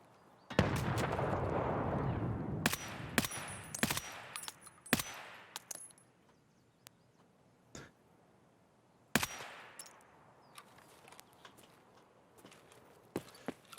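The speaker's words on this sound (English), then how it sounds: "It's a grenade." A grenade explodes in Escape from Tarkov with a heavy, rumbling blast, followed by sharp gunshots and cracks scattered unevenly across a quiet outdoor scene, then a second distant boom later on.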